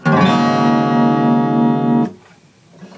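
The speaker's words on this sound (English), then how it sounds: "Put them together and you have this." All six strings of a guitar tuned down a half step are strummed together in one full open chord that rings steadily for about two seconds before being muted, followed by faint handling noise.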